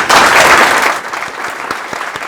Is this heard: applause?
yes